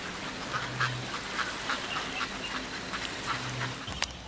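Ducks quack intermittently at a moderate distance, several short calls scattered over a steady outdoor background hiss.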